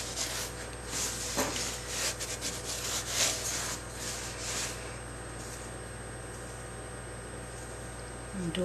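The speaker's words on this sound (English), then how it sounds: "brush off your loaf" A brush sweeps loose semolina off the top of a shaped bread loaf sitting on a peel, giving a few soft, close rubbing strokes early on that then fade into quiet background hum.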